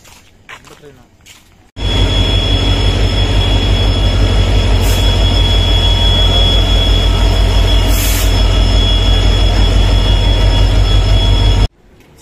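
A train arriving at a station rumbles loudly and steadily past at close range, with a constant high metallic wheel squeal over the heavy rolling noise.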